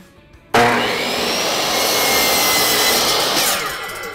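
A power saw bursts into a loud, continuous whining cut through a wide wooden board, steady and close for over three seconds before easing off as the crosscut finishes, no talk.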